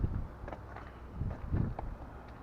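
Strong gusting wind buffets the microphone outdoors beside a car, producing loud low rumbling bursts that swell and fade, with no talking.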